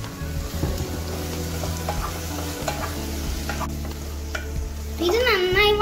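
Curry leaves go into frying masala beef, bringing a busy sizzle and crackle with stirring scrapes that swells brighter and louder near the end as the leaves hit the hot oil.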